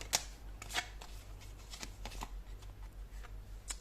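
Tarot cards being shuffled by hand in a quiet room, a run of soft riffling and flicking bursts with small taps, close and fairly quiet, with no talking.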